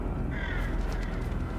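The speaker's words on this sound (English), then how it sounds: "Hello, Crow." A crow caws in the dark video game Little Nightmares 3, a single harsh call set against a dense, rumbling low ambient backdrop in a dry wasteland.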